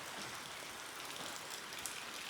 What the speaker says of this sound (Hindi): सुबह से बारिश हो रही है